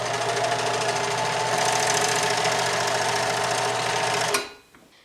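A Bernina sewing machine runs at a steady fast stitching rhythm, loud and close, for about four seconds before stopping abruptly into near quiet.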